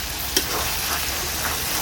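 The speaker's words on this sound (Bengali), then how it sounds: "এটাকে এবার ভালো করে আমি মিশিয়ে নেব" Olives are stirred with sugar and jaggery in a pan as a sweet pickle cooks. A steady sizzle runs under the spoon, with one sharp scrape near the start and softer stirring strokes after it.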